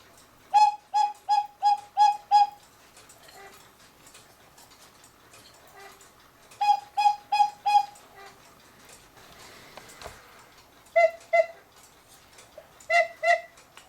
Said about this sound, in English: We're at 11 o'clock right now. Gong cuckoo, gong